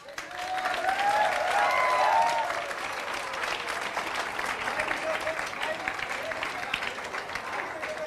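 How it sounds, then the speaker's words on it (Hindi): An audience at a celebration for selected students breaks into loud, sustained applause that peaks early and then continues steadily, with some crowd voices mixed in. "एक बार जोरदार ताली बजाओ।"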